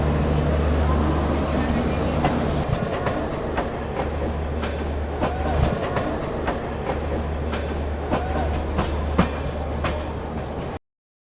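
Uttar Sampark Kranti Express heard from inside a coach on the New Delhi–Katra route: a steady heavy rumble with rhythmic clickety-clack of wheels over rail joints, continuous and close, cutting off abruptly at the end.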